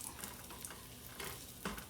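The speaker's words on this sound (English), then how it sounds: "I'm going to fry this raisins." Raisins frying in a pan while oats and dry fruit laddu are made, giving a steady close crackling sizzle with a few sharper pops and no voice over it.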